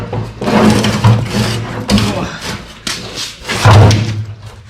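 A fuel tank is dragged out from under a Nissan GU Patrol during a workshop teardown, giving a series of heavy thumps, scrapes and metallic knocks at close range, with a low mechanical hum running underneath.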